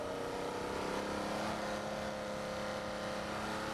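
A naturally aspirated Nissan 370Z on track at Red Star Raceway, engine held high near the rev limiter, giving a steady, droning, buzzy tone heard from inside the car, fairly quiet and continuous.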